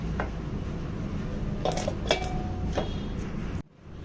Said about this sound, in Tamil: இதை வந்து மிக்ஸி ஜாரில் போட்டுக்கலாம்